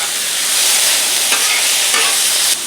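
Chicken and vegetables stir-fry on a Blackstone griddle, producing a loud, dense, continuous sizzle up close, with a couple of brief scraping strokes as the food is tossed.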